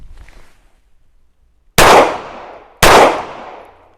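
Two sharp handgun shots crack at shooting practice on a range, each a loud close blast with a quick decaying tail, about a second apart after a quiet start.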